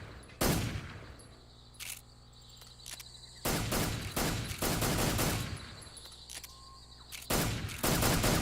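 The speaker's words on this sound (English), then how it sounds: "With these headphones on, I can hear the muzzle rapport." Gunfire in the video game Metal Gear Solid 3 comes as bursts of sharp muzzle reports, sustained volleys with short rapid shots between them, over a quiet ambient bed with faint insect-like chirps.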